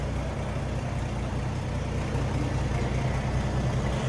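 A 1950 Chevrolet Styleline Sport Coupe's inline-six engine idles steadily with a smooth, low, even rumble, heard from close by with no exhaust modifications and no talking over it.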